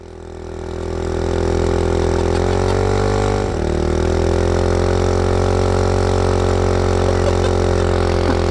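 A Honda Grom mini bike engine idles steadily in the snow, a close, loud, even drone with a slight dip in pitch midway.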